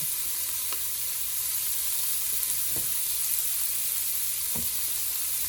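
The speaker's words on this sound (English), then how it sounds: "let's give it a good stir" Chili simmers and sizzles in a pot on the stove, giving a steady fry hiss broken by a few soft scrapes of a spoon stirring through it, close by with no talking.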